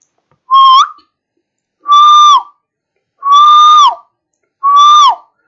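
Four loud, shrill whistle blasts sound close by, each lasting about half a second with a slight downward bend at the end, separated by short pauses.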